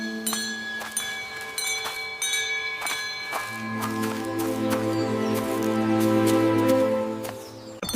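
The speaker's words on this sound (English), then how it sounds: "See this pretty bell?" A small pretty bell rings repeatedly with bright struck tones that linger and overlap, building into a denser, sustained ringing shimmer with a low hum beneath before fading slightly at the end.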